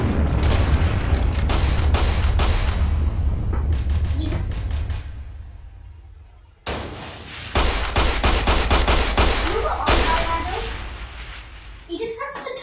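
Rapid automatic gunfire in a Roblox shooter game, loud dense bursts of repeated shots with brief pauses between volleys, with players talking over the action.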